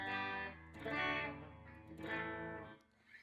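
A cheap Temu electric guitar played through a distortion effect, three loud sustained chords struck one after another, each ringing out before the next, then cut off.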